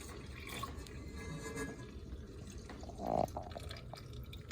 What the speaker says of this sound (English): So do you want to dump that yeast water mixture into the